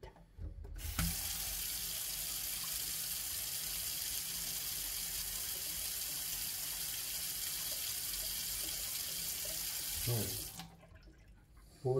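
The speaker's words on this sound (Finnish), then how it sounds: "Ja sitten sinne pitää panna kylmää vettä." Cold water gushes from a kitchen tap into a sink for about ten seconds while apple pie is being made, a steady close hiss that cuts off abruptly, with a brief spoken word at the end.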